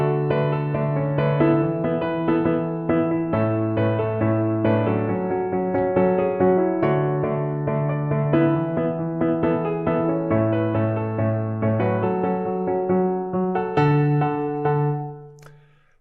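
Software playback of the mid-section of a song, a sustained synthetic arrangement of held chords moving through a repeating progression, steady and loud, then fading out at the end.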